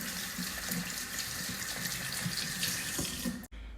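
A kitchen tap runs steadily while hands are washed under it, a close, continuous splashing stream that stops abruptly near the end.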